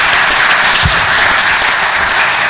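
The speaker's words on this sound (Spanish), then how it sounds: "le damos muchísimas gracias al senador y un fuerte aplauso por estar aquí con nosotros dialogando" Loud, dense applause from the audience at a youth parliament session in Mexico honoring a visiting senator, a close continuous roar of many hands clapping.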